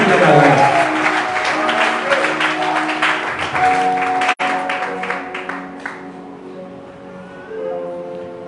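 A church congregation applauds and cheers in acclaim of Jesus during a sermon, a broad wash of clapping mixed with voices and sustained tones, gradually thinning and fading away.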